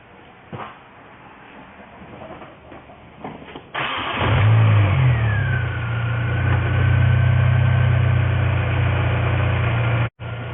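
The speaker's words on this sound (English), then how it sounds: "Let me start the car." A few quiet clicks, then a car engine cranks and catches, roaring up before settling into a steady idle.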